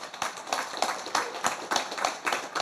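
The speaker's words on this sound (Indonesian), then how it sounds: "Tepuk tangan dong untuk panjenengan ya" An audience at a religious stand-up comedy show claps steadily throughout, producing a continuous, moderately loud patter of many hands without any talking over it.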